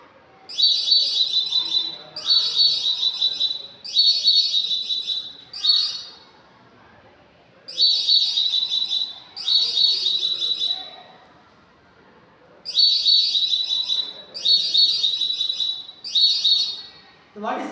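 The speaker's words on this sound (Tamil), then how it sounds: "இதுதான் வந்து லோ காஸ்ட் ஃபயர் அலாரம்." A low-cost homemade electronic fire alarm beeps in repeated bursts of shrill, chirping tones, grouped in clusters of three or four with short pauses between, loud and close.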